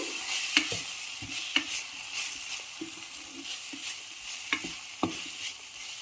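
Softened onions sizzling quietly in a pan for mint chutney, a low continuous frying hiss broken by occasional stirring knocks and scrapes, no talking.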